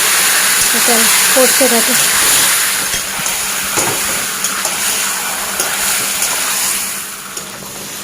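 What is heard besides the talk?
marinated goat meat sizzling in a hot pan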